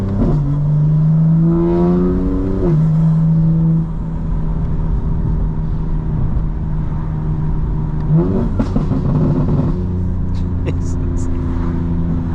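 A 900-horsepower 2025 BMW M4 Competition engine revving hard on a drive, rising in pitch, dropping, then climbing again in loud close-up bursts with a sharp crackle near the end, someone talking over it.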